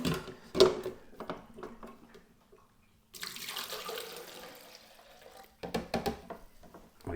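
Water is poured from a jug into the tank of a Lavazza A Modo Mio Voicy coffee pod machine, a steady close trickle and splash for a few seconds between quieter handling clatter.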